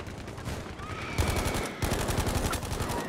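Rapid gunfire in a video game fired at a tank comes in dense, loud bursts, a steady rattling stream of shots that runs almost the whole time with hardly a pause.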